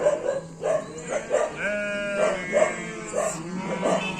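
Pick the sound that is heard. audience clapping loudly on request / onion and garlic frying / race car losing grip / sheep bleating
sheep bleating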